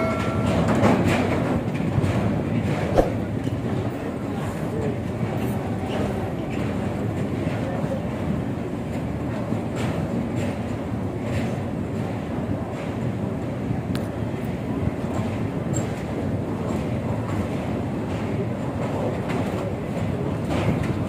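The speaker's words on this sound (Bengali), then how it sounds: "আমাদের ট্রেন এখন ওই গঙ্গার ওপর থেকে যাচ্ছে" The Kumbh Express rolls across a wide bridge over the Ganges at Kashi, a steady, loud rumble of wheels with rhythmic rail clatter that continues unbroken throughout.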